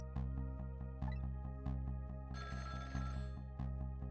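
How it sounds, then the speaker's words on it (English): A telephone rings in the video game Ghost Trick with a rapid, regular electronic bell pulse that repeats steadily and sits loud and close over a game music bed. "About 2 hours before dawn, the phone rang."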